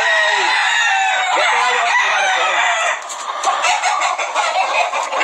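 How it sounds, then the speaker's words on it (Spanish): A rooster kept as breeding stock crows loudly and close, one long drawn-out call followed by clucking and softer calls from other fowl nearby. "Este gallo que está aquí, especial, hermanito de tu gallina, hermanito."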